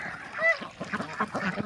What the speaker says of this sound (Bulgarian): Патиците няма да коментирам за тях.